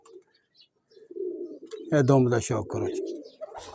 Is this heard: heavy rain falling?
no